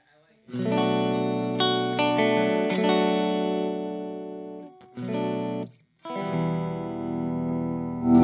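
Electric guitar rings out through a warm, slightly driven Bad Cat Cougar 50 tube amp, sustained chords and notes with brief pauses, loud and close, no voices.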